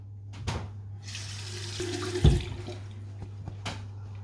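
Water running from a bathroom tap while a man rinses his face after shaving with a safety razor, a steady, fairly quiet stream with a few louder splashes and a steady low hum underneath.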